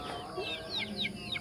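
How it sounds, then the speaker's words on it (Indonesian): Native village chickens cluck in a series of short, rising calls from a backyard flock, fairly close and steady over a low background murmur. "ayam saya ini sudah menjadi banyak sekali."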